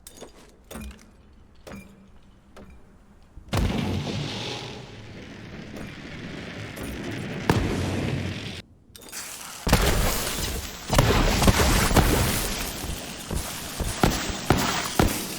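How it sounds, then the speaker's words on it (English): Elemental grenades go off in Borderlands 3, producing a string of sharp crackling blasts, shattering bursts and hissing area effects. The sound is dense and fairly loud, swelling into heavier explosive barrages toward the end. "they will always create some type of elemental damaging AoE after exploding"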